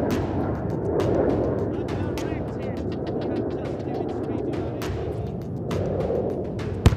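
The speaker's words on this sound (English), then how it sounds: "Fragmentation bombs have shredded the target to bits." Fragmentation bombs explode on a target during an Indian Air Force exercise: a continuous heavy rumble of blasts with sharp cracks throughout and a louder boom at the very end.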